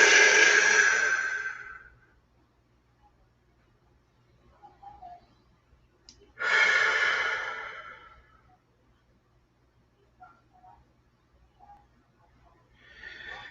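Two long, slow breaths are exhaled audibly through the mouth during a kettlebell stretch, each a breathy hiss fading out, separated by quiet pauses with faint small noises.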